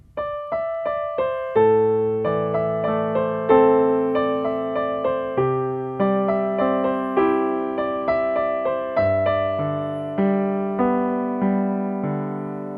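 A piano plays a left-hand part alone: a steady pattern of clear, sustained low notes and chords, evenly paced, each struck note ringing into the next.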